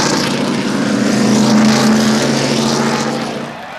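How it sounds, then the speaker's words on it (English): NASCAR stock cars circling the track behind a pace car, a loud steady engine drone with a sustained low tone that swells slightly and eases off near the end. "The race starts with a pace car leading the cars around the track to warm up the engines and transmissions"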